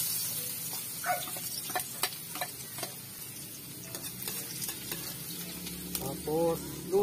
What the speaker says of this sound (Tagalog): Igisa naman tayo ngayon ng ano, ng pang adobo.